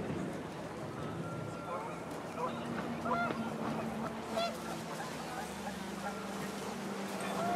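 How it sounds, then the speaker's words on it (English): Panicked geese honk in the video game What Remains of Edith Finch, with several nearby honks over wind and water ambience while a voice talks over them. "The wind picked up, and panicked geese appeared and quickly went."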